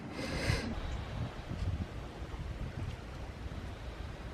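Sea waves wash onto a beach at high tide, with a broad steady roar of surf mixed with gusty wind buffeting the microphone, heard close and continuous.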